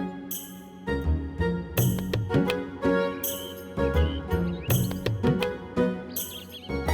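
Bright bird chirps and tweets repeat over a busy musical backing with tinkling accents, continuous and fairly loud throughout.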